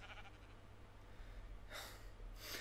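A sheep bleats in the video game Minecraft, two short breathy bleats late in the clip over a quiet steady hum.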